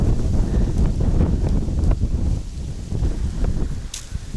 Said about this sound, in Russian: Шквалистый сегодня ветер.